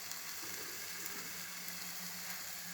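Vegetables sweating gently in a pan for endives with béchamel, giving a soft, steady sizzle that stays low and even throughout without speech.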